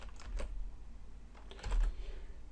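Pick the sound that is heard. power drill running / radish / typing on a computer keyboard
typing on a computer keyboard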